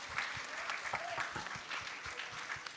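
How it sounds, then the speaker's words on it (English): An audience at a voting campaign launch event applauds the guests on stage, a fairly quiet, steady round of clapping with some distinct nearer claps standing out. "Let's give a big round of applause to them."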